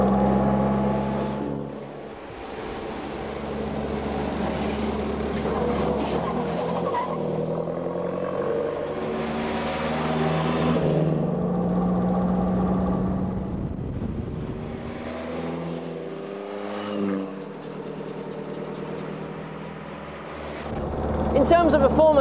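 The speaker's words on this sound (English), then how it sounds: "the car is surprisingly nippy, helped by the massive torque and pulling power of the low-revving engine" A 1928 car's low-revving engine droning steadily while driving, with deep rumble and wind buffeting, the pitch shifting as it changes pace, someone talking over it much of the time.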